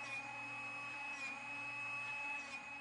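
A Drill Doctor 350X sharpening a drill bit gives off a faint, steady high-pitched motor whine with a low hum underneath, running continuously and alone.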